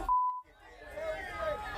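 Censor beep blanking out a slur in fan-shot phone footage, a single short steady tone right at the start, followed by muffled crowd babble and talk.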